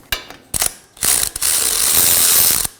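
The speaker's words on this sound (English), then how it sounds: "We're going to remove these now, break them free." Ratchet wrench breaking loose and spinning out 17mm caliper bracket bolts on a 2020s Toyota Corolla front brake, with a couple of short clicking bursts followed by a longer steady run of rapid pawl clicks, close and loud with no talking.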